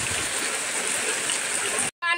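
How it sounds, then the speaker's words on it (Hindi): Water gushing in from the household supply, a steady loud broadband rush for about two seconds before cutting off briefly, then resuming. "पानी देख रही है, पानी आ रहा है पूरी तरह से एकदम"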